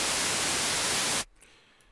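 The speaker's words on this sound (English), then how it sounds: "some white noise." Dense, steady white noise hisses loudly across the whole range, like static, as a test signal in FL Studio's Parametric EQ2, then cuts off abruptly about halfway through, leaving near silence with faint traces.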